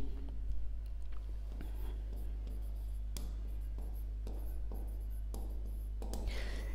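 Pen scratching across paper in soft, irregular strokes and taps, fairly close, with a steady low hum beneath and no talking, while a physics problem on step-up transformers is worked out.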